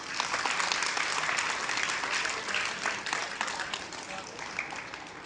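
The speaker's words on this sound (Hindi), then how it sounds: "तालियां बजा दो इनके लिए" Applause from a seated crowd at a Hindu religious discourse on the Ramayana, with steady, dense clapping throughout that stays close and fairly loud.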